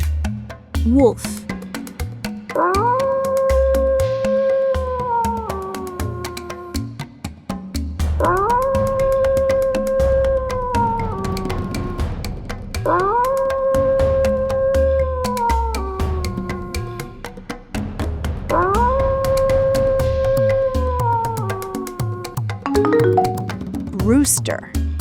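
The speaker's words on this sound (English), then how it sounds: "wolf," A wolf gives four long, rising then falling howls, loud and close, with short pauses in between and background sounds underneath.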